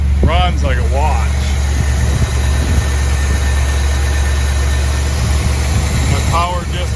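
Steady low idle of a 1955 Chevrolet Bel Air engine, a continuous close rumble running the whole way through, with a voice talking briefly near the start and again near the end.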